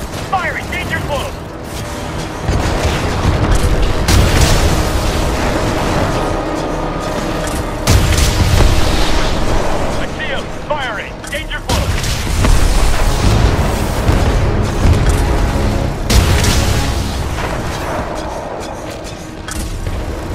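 Titanfall 2 battle with heavy booming explosions from incoming fire, several big blasts in a row over a constant loud rumble of combat, with voices calling out between impacts.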